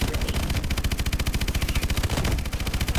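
Sustained rapid automatic gunfire while shooting enemies in Call of Duty: Advanced Warfare: a loud, dense stream of evenly spaced shots with no break and no talking.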